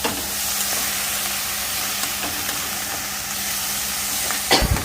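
Vegetables fry in a pan with a steady, close sizzle and hiss, ending with a short clatter of stirring.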